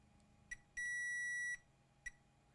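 A multimeter in diode mode beeps while probes touch points on an ASUS Zephyrus laptop board: two short chirps, one sustained tone of under a second, then another short chirp, clean and close.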